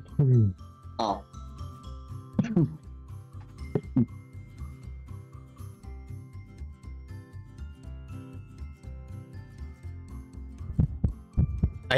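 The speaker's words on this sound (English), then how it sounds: "What is that heartbeat? Is that my heart?" A throbbing heartbeat sound effect in an online golf game pulses through the clip with irregular thumps and ticks, mixed with other game sounds.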